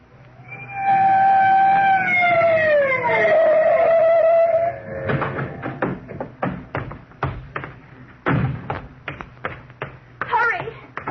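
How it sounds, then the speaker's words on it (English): A police car siren wails loud and close for about four seconds, its pitch sweeping down as it fades, in a 1948 radio courtroom drama, followed by a run of sharp knocks and thumps. "Bill Krug of Homicide let me work the siren on the police car as we tore out to the home of Roger J. Simpson"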